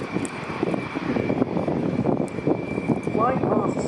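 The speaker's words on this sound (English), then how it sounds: "flying past slowly here" An Airbus A400M Atlas military transport aircraft makes a slow low-speed pass at an air show at RAF Fairford. Its engines give a steady, loud drone that holds for the whole stretch, with a commentator talking over it.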